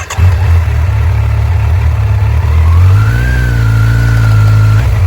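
A motorcycle engine idles loud and steady with a deep continuous rumble, then a rising tone as the rider eases out the clutch before a launch, close up with no talking.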